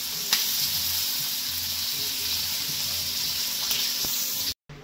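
Prawns fry steadily in a hot pan in a home kitchen, a continuous close sizzle with faint scrapes and clinks, cutting off abruptly near the end.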